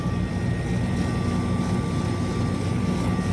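A steady, continuous mechanical hum with a faint high whine on top, running evenly throughout like a pump or motor.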